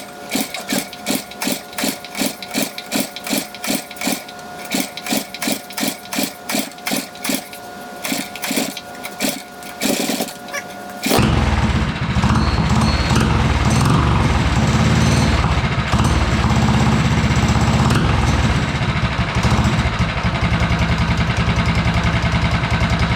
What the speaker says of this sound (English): There's your running race engine.